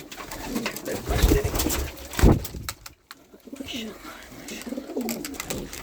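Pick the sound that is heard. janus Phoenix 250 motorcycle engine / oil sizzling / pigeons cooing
pigeons cooing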